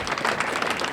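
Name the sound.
sparse applause from the audience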